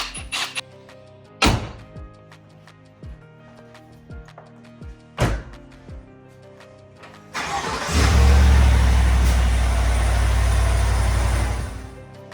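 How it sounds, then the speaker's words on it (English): Cadillac Escalade Sport Platinum with a 6.2L V8 and a newly installed cold air intake, first a few sharp thunks and clicks, then the engine starting up loud and close and running steadily at a rumbling idle. "We'll hook up the battery and we'll take it on the test drive."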